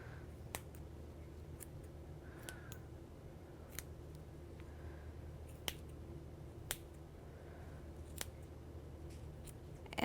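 Scissors trim the fibers of a yarn pom-pom made on a fork, with a run of crisp, separate snips spaced a second or so apart over a faint steady hum, close and quiet.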